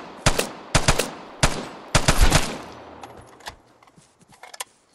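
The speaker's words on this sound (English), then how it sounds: "He shot me from the roof." Gunfire in the shooter game Vigor: several sharp bursts of shots in quick succession, loud and close, followed by fainter scattered shots and clicks fading off.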